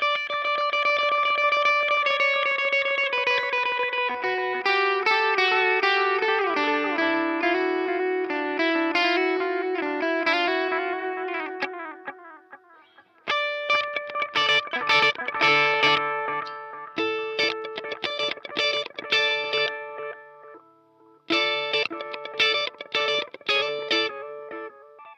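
Electric guitar played through a Delay Llama MK3 analog delay and a Getaway Driver overdrive, loud distorted chords and picked notes ringing with repeating echoes that trail off, a brief pause, then choppy strummed passages alone.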